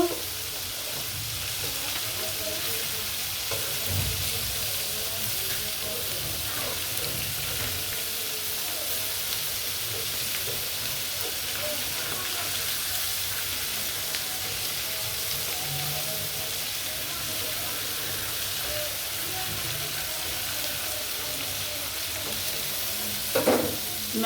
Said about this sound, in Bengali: মাছটি একটু সামান্য একটু ভাজবো